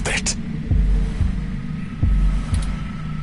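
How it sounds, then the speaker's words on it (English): A deep pounding heartbeat sound effect thumps in a steady double-beat rhythm, loud and low, over a humming drone. "Your heartbeat is like sonar to me. The louder it pounds, the faster I race to stop it."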